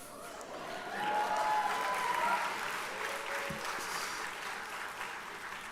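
A graduation audience at a journalism school ceremony bursts into sustained applause and cheering, a broad wash of clapping that swells and holds steady for several seconds.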